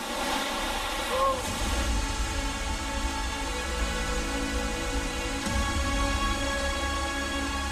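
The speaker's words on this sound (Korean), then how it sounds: "빗물에 깎이고 바람에 패인 석회암 절벽 위로 세찬 물줄기가 쏟아집니다." Steady roaring rush of Kinchkha waterfall in Okatse Canyon, Georgia, pouring over a limestone cliff, broad and constant, heard close with no pauses.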